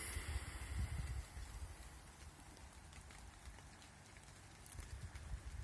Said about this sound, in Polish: Pogoda deszczowa